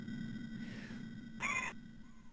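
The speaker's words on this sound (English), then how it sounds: "That seagull's doing a bit of hovering." A single synthesized seagull cry from the Amiga game Hunter, one short, bright, harmonic squawk lasting about a third of a second over a quiet, buzzy game background hum, with a fainter call just after.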